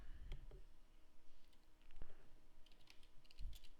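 Keystrokes on a computer keyboard while typing a file path into a BeamNG editing tool, a few scattered clicks and short bursts of taps, close and fairly faint, with no talking.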